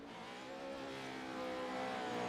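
A race car engine revs and sings steadily during a motorsport race, its harmonic whine held loud and sustained and swelling slightly over about two seconds, with no talking.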